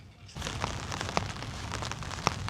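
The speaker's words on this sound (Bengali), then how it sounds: "সকাল থেকে কিন্তু বৃষ্টি হচ্ছে অনেক" Steady rain falls at Shimul Bagan on a Tanguar Haor houseboat trip, a broad continuous patter that starts abruptly after a short quiet lead-in, with a few sharper drops standing out; no one speaks.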